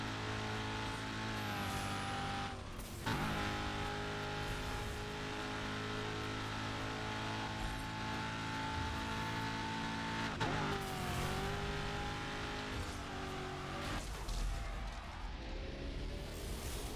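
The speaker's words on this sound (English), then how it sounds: "it's so grating to listen to the Nighthawk for 2 hours" The Nighthawk car in the Burnout Paradise video game holds a steady, loud engine drone for the whole stretch, with brief dips and shifts where the pitch changes. No one speaks.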